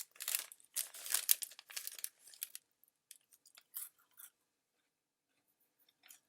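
Annie's organic cheddar bunny crackers crunch loudly between the teeth in close, rapid bursts that thin out into softer, sparse chews and then near silence.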